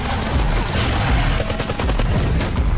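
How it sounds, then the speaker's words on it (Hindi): Soldiers fire on a horned monster in a desert movie battle scene: dense, loud gunfire crackles in rapid overlapping bursts, like machine guns, throughout. "सभी ने गोलियां चलानी शुरू कर दी,"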